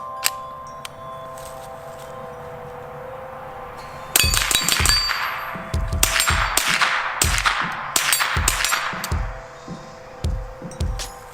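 A suppressed Ruger Charger fires a string of shots, each a muffled pop followed by a sharp metallic clang as rounds strike steel targets, coming in an irregular rapid series at close range.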